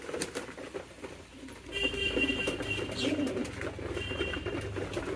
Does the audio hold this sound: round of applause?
no